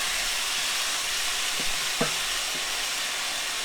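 Beef broth hitting a hot pan for unstuffed cabbage rolls gives a steady, dense sizzle throughout, with a couple of faint utensil clinks near the middle.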